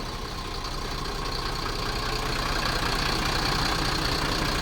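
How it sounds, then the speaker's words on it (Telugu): A Bharat Benz truck diesel engine idles steadily after starting with a newly fitted self-starter motor, a continuous close rumble with a slight knocking texture and no voices. "ఇప్పుడైతే సెల్ఫ్ మోటార్ వేసి బండి స్టార్ట్ చేసాను చూడండి"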